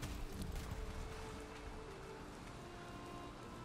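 Steady rain pours down during a storm in the survival video game Valheim, a continuous broadband hiss of falling water with a faint low rumble beneath, moderately loud and unbroken throughout, with no voices.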